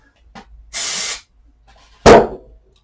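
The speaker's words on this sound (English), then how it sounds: "spray that with temporary adhesive" Temporary fabric adhesive sprayed from an aerosol can onto a cut fabric piece while crafting a Christmas bear gift tag: one steady hiss of about half a second, with a short sharp burst of another sound following shortly after.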